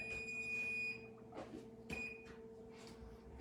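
A kitchen timer beeps faintly a few times in a quiet room, its short high tones standing alone against a low background hum.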